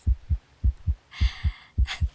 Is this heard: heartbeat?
yes